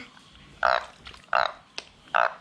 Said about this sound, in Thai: เสียงอึ่งอ่างครับ